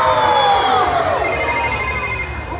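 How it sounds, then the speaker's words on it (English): At a live Paw Patrol stage show, a loud electronic phone ring chirps in a quick warbling pattern over a noisy, cheering crowd of children in a large indoor space. "someone's calling the pup pad"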